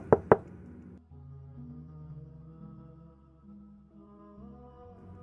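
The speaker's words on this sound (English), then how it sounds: "Knocking at the door." Two sharp knocks on a door ring out at the start, loud and close, followed by soft sustained dramatic music.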